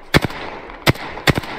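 Three short bursts of rapid gunfire in the video game Apex Legends, each a quick double or triple crack, separated by brief quiet gaps, sharp and close.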